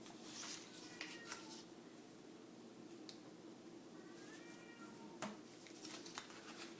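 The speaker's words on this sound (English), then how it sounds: "We have a little cat commentary going on in the background" A house cat meows softly in the background in a few brief, faint calls, partly masked by a steady hiss of room noise.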